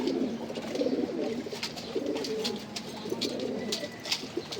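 Several pigeons in a loft coo continuously as they eat, low rolling calls overlapping close by, with scattered faint clicks and pecking sounds above the steady murmur.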